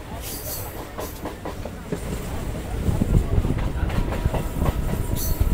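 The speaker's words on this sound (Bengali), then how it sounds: "এই আরামবাগ ঢুকছে ট্রেনটা।" The Howrah–Goghat local train pulls into Arambagh station, a rumbling rail clatter and wind noise that build louder toward the end, with faint voices nearby.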